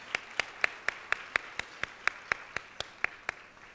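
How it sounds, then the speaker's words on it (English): Clapping at a teacher awards gala honouring teachers: about fifteen sharp, evenly spaced claps in a steady rhythm, distinct and fairly close, with a quiet room behind them. "Let's give another round of applause to our teachers who've been honored so far today."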